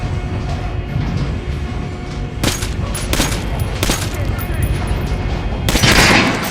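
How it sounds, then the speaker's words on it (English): Gunfire at a training dummy in the video game Metro Last Light, a few sharp shots cracking over a loud, continuous rumbling game soundscape, with a burst of noisier fire near the end. "Try shooting for the center of the regular dummy's chest."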